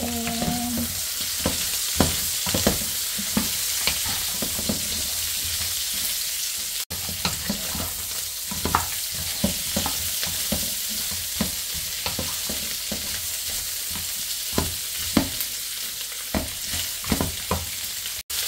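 Chicken feet stirred in a sizzling frying pan, a steady hiss of frying under repeated scraping strokes of a utensil against the pan, close and continuous with no talking.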